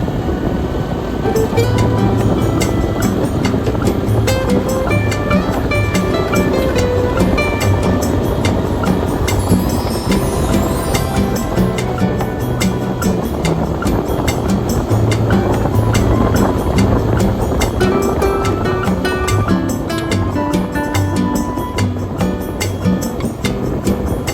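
A 2009 Honda CS1 motorcycle being ridden along a scenic mountain route, with loud, continuous wind buffeting and engine drone throughout.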